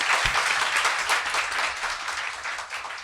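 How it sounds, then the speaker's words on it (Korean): A studio audience bursts into applause on a talk show, a full, steady wash of clapping from many hands. "박수."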